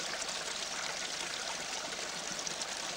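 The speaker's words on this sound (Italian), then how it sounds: "Facciamo un pieno di acqua." Spring water pouring into a container at a mountain drinking trough, a steady continuous trickling and splashing hiss that holds at an even, fairly quiet level with no talking.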